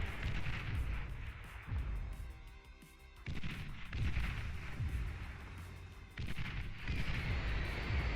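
Missiles firing in the real-time strategy game Beyond All Reason, a loud continuous barrage of deep booms and crackling launches with rumbling blasts, swelling in waves across the whole stretch.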